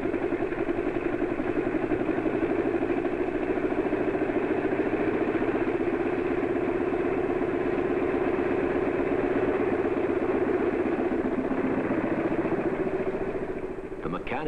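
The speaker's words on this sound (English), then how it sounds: "Then they put the engine back together again and run it at high speed for many hours." Aircraft engine reassembled after overhaul runs at high speed on a test stand at an airport in 1947, a steady, loud droning roar with a clattering texture, holding constant before easing slightly at the end.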